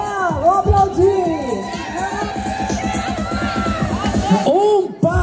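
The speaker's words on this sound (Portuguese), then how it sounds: "vamos aplaudir!" A crowd at a local beauty pageant final in Brazil cheers and shouts loudly as a contestant steps forward, with many voices and children's yells blending into a dense, continuous roar.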